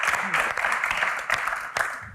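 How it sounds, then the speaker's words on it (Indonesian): An audience at a live Q&A session applauds briefly, a moderate crowd patter with a few louder sharp claps, while faint voices sit under it. "Tepuk tangan sekali lagi untuk Kak Mel dan Kak Tyson."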